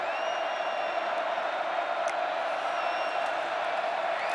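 Football crowd in the stadium at Lincoln, Nebraska, a dense, steady roar of thousands of fans that holds at an even, loud level with occasional faint whistles and shouts rising from the mass.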